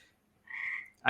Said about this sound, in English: you can probably hear these frogs going to town outside of my window here